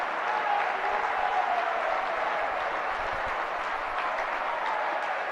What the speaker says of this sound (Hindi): जरा जोर, इतनी तालियां बजनी चाहिए कि आकाश तक गूंज जाए।